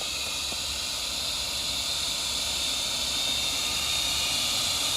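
A Yarbo robot's leaf blower runs continuously nearby, a loud, steady broadband hiss and rush of air with no pauses.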